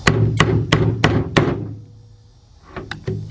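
Five sharp hammer taps on a 2005 Cadillac CTS 3.6 engine during oil pan removal, in a quick even rhythm, then a pause and a few lighter taps, close and loud with no talk.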